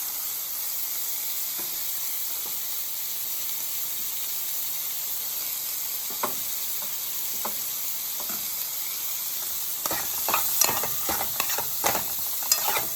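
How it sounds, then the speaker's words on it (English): Peppers and onions sauté in a hot pan, giving a steady, close sizzle, with stirring clicks and scrapes joining more often toward the end. "We're going to go ahead and add in the rest of our peppers and onions."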